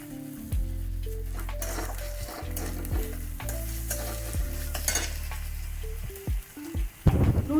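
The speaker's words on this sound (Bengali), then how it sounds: "কাঁচা লঙ্কা এটা দিয়ে আমি 2-3 মিনিট ভাজবো" Green chillies with ginger-garlic paste frying in a pan for a pangas fish chop, giving a loud continuous sizzle and crackle close by, broken by a few scraping stirs and clanks of the spatula and a sharper burst near the end.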